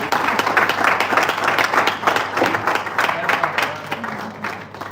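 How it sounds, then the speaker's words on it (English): A crowd at an airport careers training event keeps clapping in a steady, dense wash of applause that tapers slightly toward the end, with a faint voice in the background. "Please, let's keep clapping."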